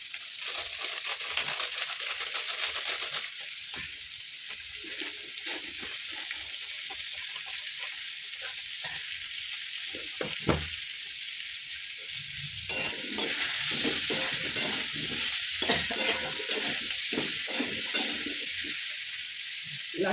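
Pomfret fish fries in a pan with a steady hiss of sizzling oil that swells louder partway through, with occasional clicks and scrapes from a utensil, close and continuous.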